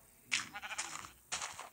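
Sheep bleat in a video game village setting, two fairly faint calls with a gap between them and no talk.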